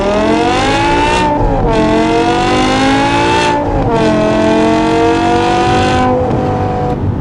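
A 2008 BMW M5 E60 with its 5-liter V10 accelerating hard, loud close engine howl rising in pitch through several gears toward its high redline, with brief dips at each shift.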